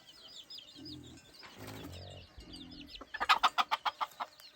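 A young rooster of about seven or eight months, kept for breeding, gives soft low clucks. Near the end comes a run of rapid, louder rhythmic bursts like flapping wings, all close by with no talk.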